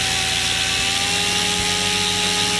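A Goblin 500 RC helicopter's electric motor spins up in idle up 2 mode, a loud, close, steady whine with stepped tonal shifts as the speed changes.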